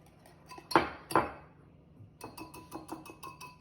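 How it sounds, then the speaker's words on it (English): A Pampered Chef manual food chopper works through a cup of pecans: two sharp clacking strikes, then a rapid run of lighter rhythmic clicks and taps, close and fairly crisp. "With this manual food chopper. This is 1 cup of pecans that we're finely chopping."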